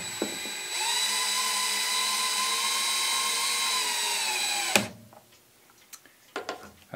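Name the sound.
power drill drilling holes in scrap wood for clock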